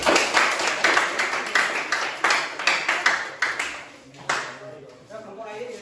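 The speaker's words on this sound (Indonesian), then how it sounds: "Kasih tepuk tangan, loh." A classroom group claps in bursts of separate hand claps that fade and then pick up again, with voices talking around the clapping.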